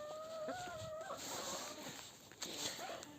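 Thin high peeping from young birds, a few rising calls early on, faint and close over a soft background with no talking.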